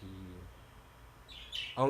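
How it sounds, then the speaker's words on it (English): A pet bird at home gives a few quick, bright chirps near the end, right after a voice fades out at the start. "My bird over here flying and shit."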